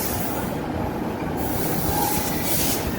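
A Perth train sits at a station platform with a steady, loud rolling rumble and a faint wheel squeal, continuous and close, no voices.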